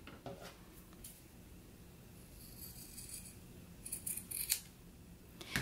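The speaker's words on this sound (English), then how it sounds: "I'm going to grab my scissors and do a little trimming." Scissors snip a few times, trimming fabric against a quiet background hiss, short crisp cuts clustered toward the end, close by.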